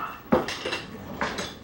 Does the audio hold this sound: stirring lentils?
yes